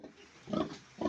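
Pigs on a farm grunt in two short, fairly loud bursts over a low, steady background, with no talk.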